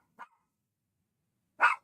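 Two separate barks from a dog indoors, a short soft one followed after a long silent gap by a louder, fuller bark, with no voices present.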